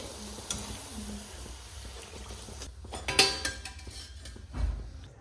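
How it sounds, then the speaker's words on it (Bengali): Flour batter is sprinkled into hot oil to puff up and fries with a soft, continuous sizzle, broken by a few clinks and scrapes of utensils against the pan. "এই যে গরম তেলে এভাবে একটু ছিটিয়ে দেবো, সুন্দর ফুলবে"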